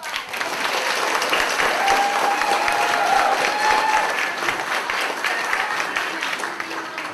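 An audience at a third grade school assembly applauds in a loud, dense round of clapping that holds steady throughout, with a brief whistle rising above the crowd midway.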